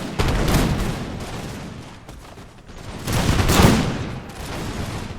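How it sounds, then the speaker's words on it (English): Infantry musket volleys in the video game Imperial Splendour during a massive Rhine battle, a continuous rolling crackle of distant shots that swells midway and then eases, with no voices. "just look at the shots that our men are getting here at their flank"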